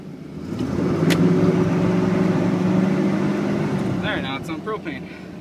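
Chevrolet pickup engine running on propane, a steady low rumble held close and loud throughout, with people talking over it toward the end.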